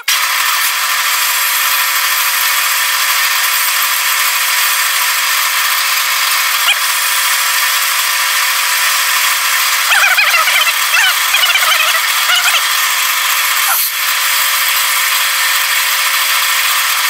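A continuous high-pitched drill whine runs throughout, loud and steady, with brief scraping bursts midway as the bit grinds into metal for a mill vise stop.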